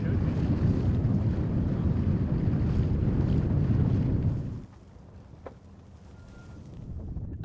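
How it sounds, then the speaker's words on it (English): A sailboat crosses the bay toward the mid-peninsula marshlands, with steady wind and water rush loud for several seconds before dropping to a quieter lapping and hiss. "Sailing south to the mid-peninsula marshlands was full of contrasts."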